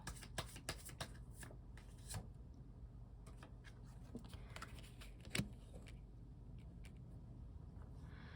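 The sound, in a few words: tarot cards being shuffled and drawn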